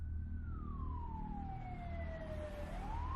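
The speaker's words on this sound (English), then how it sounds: "the sirens reached a fever pitch as the ambulance arrived on the scene" A wailing ambulance siren sweeps slowly downward in pitch, then starts rising again, steady and moderately distant over low traffic rumble.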